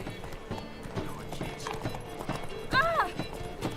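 A horse's hooves clip-clop at a gallop in The Witcher 3: Wild Hunt, a steady rhythmic beat under music and game sound, with a short whinny near the end and a voice urging the horse on.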